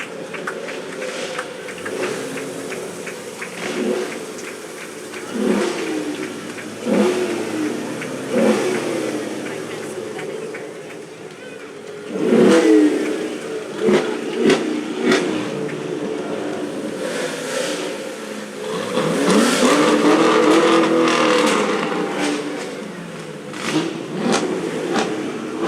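Chevrolet Camaro cars rev loudly in bursts while rolling through a veterans parade in Auburn, with engine surges rising and falling over crowd noise and nearby talk.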